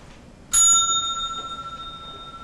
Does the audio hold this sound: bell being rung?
yes